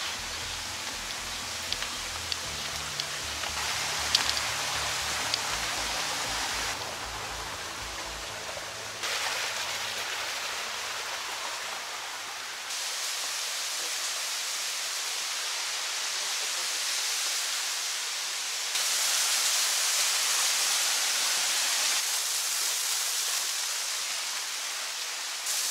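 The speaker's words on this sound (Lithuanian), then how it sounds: "Kažkur, kur teka vanduo." Flowing water from a stream or small waterfall on a hillside in Cyprus, heard as a steady broadband rush that stays close and loud throughout, with no talk.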